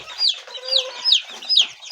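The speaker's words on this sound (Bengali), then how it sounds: "ভালো ব্লাডের আসিল মুরগির বাচ্চা" Twenty-day-old Aseel chicks cluck and peep in a steady series of short, bright calls, about four bursts over two seconds, close by with no talking.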